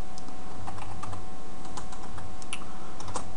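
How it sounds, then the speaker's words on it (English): A computer keyboard is typed on during a coding lesson. Quick, irregular keystroke clicks come from close by, with no talking. "So I'll type in a label for attendance."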